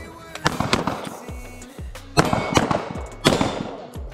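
Gunshots from a firearm fired for the first time at a shooting range, three sharp loud reports spaced about a second apart, each with a short ringing tail, alone with no talk.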